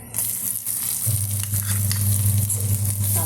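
Grated coconut sizzles steadily in a hot pan while being toasted for a North Kerala curry, with a close, continuous frying crackle and occasional stirring scrapes.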